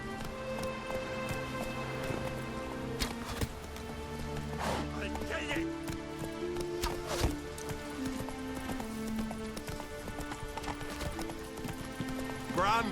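Roach, the horse in The Witcher 3, gallops with steady clip-clopping hooves at close range, under game music and occasional speech.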